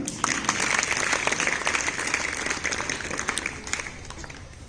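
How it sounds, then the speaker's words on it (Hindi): A school audience applauds a student prize winner on stage, giving a dense, lively burst of many hands clapping that stays strong for several seconds before easing slightly. "इस बच्चे के लिए जोरदार तालियां"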